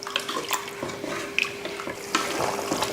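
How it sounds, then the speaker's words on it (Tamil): Salted water boiling in a pot before rice goes in, with irregular bubbling pops and faint clinks over a steady low hum, close by. "நல்லா கொதிக்க ஆரம்பிச்சிருச்சு பாருங்கள்."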